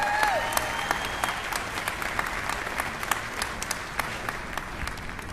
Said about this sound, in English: Please give another round of applause for our mayor, Muriel Bowser.